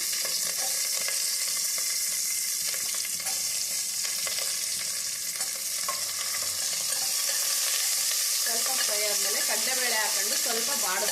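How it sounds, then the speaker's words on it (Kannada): Onions and curry leaves frying in a pan with cumin, a continuous loud sizzle with stirring scrapes and a brief burst of stronger crackling near the end. "ಈರುಳ್ಳಿನೂ ಹಾಕಿ ಸ್ವಲ್ಪ ಫ್ರೈ ಮಾಡ್ಕೊತೀನಿ"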